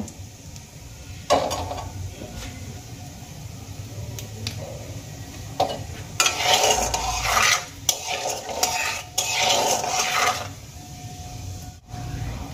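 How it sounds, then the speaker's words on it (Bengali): Whole cumin seeds fry in a little oil in a pan, with soft sizzling beneath scraping spoon strokes and occasional clinks against the pan, moderately close and with no voices. "এবার জিরেগুলোকে হালকা লাল করে ভেজে নেব।"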